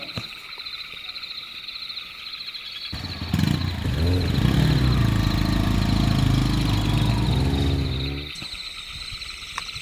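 A motorcycle engine starts up close and idles loudly for several seconds with a steady rumbling putter over a night background of insect chirps, then fades back out.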